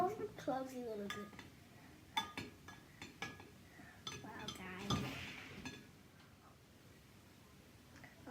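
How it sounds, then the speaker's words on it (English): Glow-in-the-dark slime mixture being stirred in a container, with scattered clinks and soft squelchy scrapes of the utensil up close, and a voice talking briefly early on. "I'll give it few more stirs, guys"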